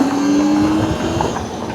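A Kupprum Nomad electric adventure motorcycle with a 4 kW mid-drive motor accelerating in S mode, giving a loud, steady electric whine with a rising tone and road and wind rumble beneath it, up close and without speech.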